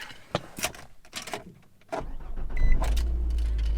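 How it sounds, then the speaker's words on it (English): A Nissan Armada engine cranks and catches after key programming, preceded by clicks and cabin rustle, then settling into a loud, steady idle hum. "And the car starts."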